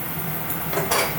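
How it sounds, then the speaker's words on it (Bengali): A metal lid lifted off a pot of curry simmering with potatoes, a brief clatter of metal on metal rising near the end over a steady kitchen background. "তরকারিতে ঢাকনাটা খুলে দেখি আলুটা সিদ্ধ হয়েছে কিনা"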